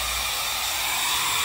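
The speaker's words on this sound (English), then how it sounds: "Blower is right here." A firebox blower on a large steam boiler pushes air in a constant, close whooshing hiss, even and unbroken over a faint low rumble, with no talk.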